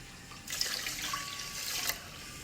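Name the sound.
plain water poured into rice cooker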